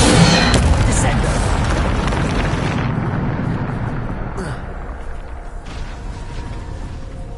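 A Descendo spell slams down in Hogwarts Legacy, producing a loud, heavy booming crash with a rumbling roar that slowly fades over several seconds.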